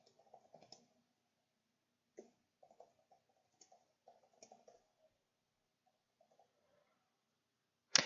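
Faint, sparse clicks of someone typing on a computer keyboard come in short bursts and isolated taps in a quiet room, ending with one sharper, louder knock.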